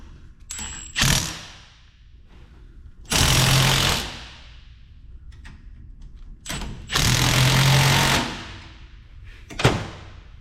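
Power tool tightening bolts on the front end of a Ford F350 truck, with loud bursts of rattling impact hammering separated by short mechanical clicks and quieter gaps, close up and free of talk.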